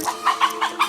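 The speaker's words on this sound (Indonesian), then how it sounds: "ternyata ada satu seekor ayam itu terbang ke arah kamera" A chicken clucks in a quick run of five short, close calls while flying up toward the camera.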